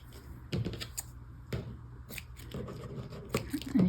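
Paper scissors snip through paper for a scrapbook album, a handful of sharp crisp cuts spaced irregularly, close and fairly loud with faint rustling between.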